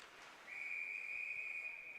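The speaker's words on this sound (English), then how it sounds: "Long whistle." Referee's whistle at a junior varsity ice hockey game, one long sustained shrill blast held for well over a second, fairly faint and distant against arena hiss.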